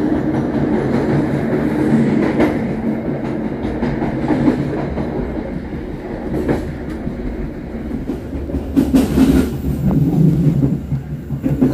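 A passenger train rumbles steadily across a railway bridge with rhythmic clacking of wheels over rail joints, loud and close, with a hollow resonance throughout.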